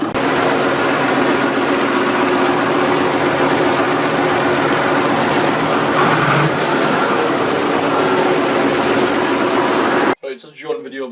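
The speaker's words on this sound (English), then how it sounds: "We'll let tractors roll along." A tractor engine runs at a steady, loud, rough drone for about ten seconds, then cuts off abruptly and a voice briefly takes over.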